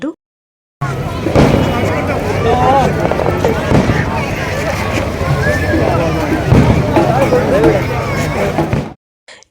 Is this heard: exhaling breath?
no